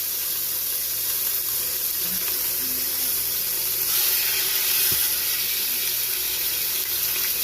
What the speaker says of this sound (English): we are going to cook these pork chops for 2 to 3 minutes on each side